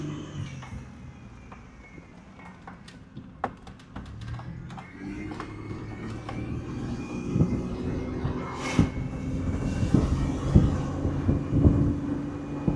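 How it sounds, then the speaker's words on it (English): Rumbling road and wind noise inside a moving 2003 Chevy Blazer, building gradually as speed rises, with occasional thumps and no speech. "here comes the wind noise"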